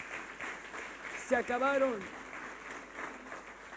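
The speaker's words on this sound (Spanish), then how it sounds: "Denle un aplauso al Señor." A church congregation at a Sunday morning service applauds in a steady wash of clapping while a preacher's voice speaks briefly over it.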